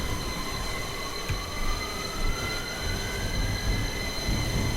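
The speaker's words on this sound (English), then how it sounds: "These trains go so fast." A London Underground Victoria line 2009 Stock train running in the Open.BVE simulator game, with a continuous loud rumble, rising motor whine and faint wheel squeal.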